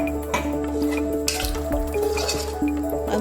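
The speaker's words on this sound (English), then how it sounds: "Just add in a half glass of water." Water splashes and trickles into a metal pressure cooker, with light clinks and drips throughout, close by and fairly loud.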